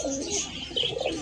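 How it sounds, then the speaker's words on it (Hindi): Pigeons coo softly and continuously, close by, while eating grain in a home loft on a cold morning. "बाकी जो अपने कबूतर है यहाँ पे दाना खा रहे हैं"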